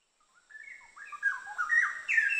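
Straw-headed bulbul singing, a loud, rich run of bubbly whistled phrases that rise and build in strength over a couple of seconds, heard alone and up close.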